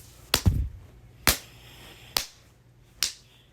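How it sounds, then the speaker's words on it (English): Hands clap four times, each a sharp, crisp smack spaced about a second apart, close by and alone in an otherwise quiet room. "that was my hands, like, clapping"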